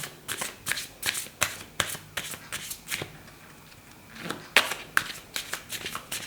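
Oracle cards are shuffled by hand in a steady run of crisp riffling bursts, close and fairly quiet, with no talk over them.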